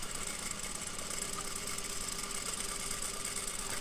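A sewing machine stitches fabric with a steady, fast mechanical whir and rattle, close and continuous for a few seconds with no talking.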